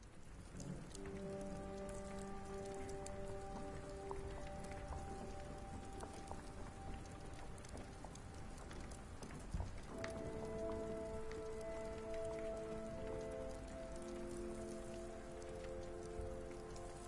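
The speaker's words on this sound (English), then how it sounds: "Oh, rainy." Steady rain hiss falls continuously in the Sherlock Holmes: The Awakened (2023) video game, with soft sustained musical tones layered over the downpour and no voices.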